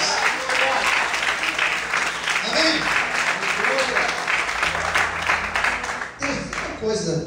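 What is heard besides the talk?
church congregation applauding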